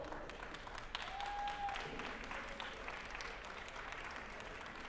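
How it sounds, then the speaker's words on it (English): Faint, steady applause from the crowd at a medal presentation for the women's singles semifinalists at a national championship, heard from a distance in a large hall. "Let's have a round of applause for these girls."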